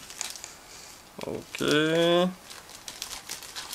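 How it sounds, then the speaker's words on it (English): Plastic parts bag from an Eduard 1/72 MiG-21MF Limited Edition model kit crinkles and crackles in short bursts, with a brief spoken word in the middle. "Now I'm trying to open the next plastic bag."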